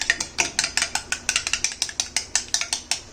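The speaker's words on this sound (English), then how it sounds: "we are just whisking it" Quick rhythmic clinks of a whisk beating sour yogurt smooth in a bowl, a steady run of bright metallic taps close up with no talk.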